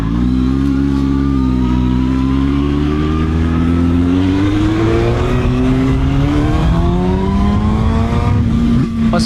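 A CFMOTO 750 SR-S motorcycle engine accelerating on the road, its loud, steady roar climbing smoothly in pitch over several seconds with wind noise, and no speech.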